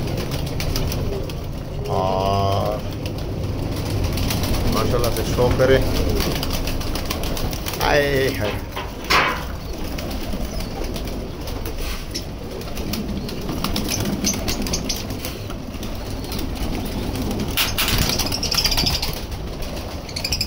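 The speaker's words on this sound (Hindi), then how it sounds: "ये कबूतर माशाल्लाह दाना खा रहे हैं" High flyer pigeons at a home loft coo steadily at feeding time while pecking at scattered grain, soft wing flutters mixed in, with someone talking over them throughout.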